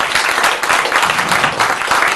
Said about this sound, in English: Everyone give some round of applause.